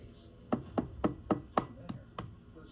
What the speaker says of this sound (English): into this bowl and the strainer, we want to crack the egg